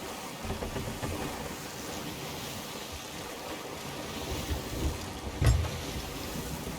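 A stormy sea in the pirate game Sea of Thieves, with constant dense wind, rain and water wash around a ship, steady and moderately loud, and one brief heavier thud or splash near the end.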